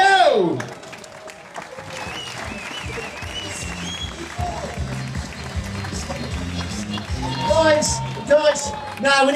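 Festival audience applauding a comedian, a sustained wash of clapping and cheering with a low musical beat underneath and some shouted voices on top, holding steady and then swelling near the end.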